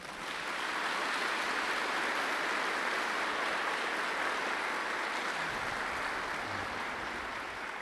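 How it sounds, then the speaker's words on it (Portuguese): Sustained applause from a large congregation at a Catholic Mass, a dense, even wash of clapping that holds steady throughout with no voices on top. "Uma salva de palmas."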